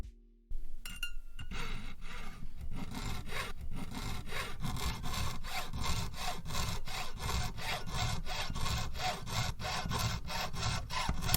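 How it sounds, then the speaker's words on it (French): A jeweler's saw (bocfil) rasps steadily through metal in quick, even back-and-forth strokes, close and continuous with no talking. "On vient couper le métal pour commencer à forger, à travailler sur une bague, sur une plaque."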